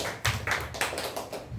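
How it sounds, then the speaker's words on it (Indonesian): A congregation at a Saturday worship and prayer night claps for Jesus, a short burst of close, uneven hand claps with a few heavier thumps. "Tepuk tangan untuk Tuhan Yesus kita."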